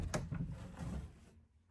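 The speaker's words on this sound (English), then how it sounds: "Let's check out the other bedroom, if the door will open." A bedroom door in a house swings open, with a few soft wooden knocks and creaks over roughly a second before the room goes quiet.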